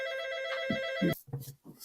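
A telephone rings with a bright, steady electronic tone for about a second, then cuts off; a few short vocal bursts follow.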